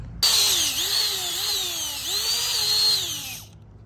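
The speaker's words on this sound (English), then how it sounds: "So we're switching over to the drill and auger." A power drill with an auger boring into soil whines steadily with a rising and falling pitch as the bit bores in, then cuts off abruptly near the end.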